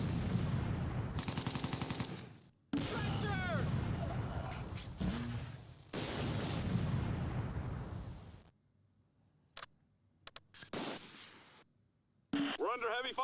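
Gunfire in Close Combat 2: A Bridge Too Far, the World War II tactical game, comes in loud, dense bursts and rattling volleys separated by sudden silences and a few isolated shots, with brief voice fragments between them.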